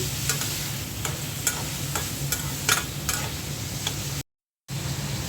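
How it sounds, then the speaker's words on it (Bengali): Prawns frying with onions in a pan give a steady, close hiss of sizzling oil, broken by regular light scrapes of a spatula stirring, with a brief gap near the end. "চিংড়ি মাছটা পেঁয়াজের সাথে ভেজে নিচ্ছি।"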